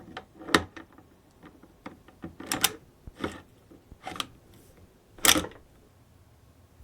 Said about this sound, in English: And the last piece is to slide the bolt in.